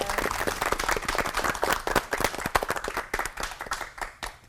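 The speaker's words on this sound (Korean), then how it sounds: "세 분 목사님들께 박수 부탁드리겠습니다" A studio audience claps for three pastors after a talk, loud close rapid clapping that thins and fades toward the end.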